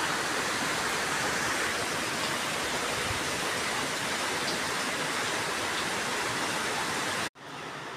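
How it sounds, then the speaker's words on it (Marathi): Heavy rain pours down in a Konkan village amid strong wind, a dense, loud, unbroken hiss of falling water that cuts off abruptly near the end. "एवढा पाऊस पडतोय"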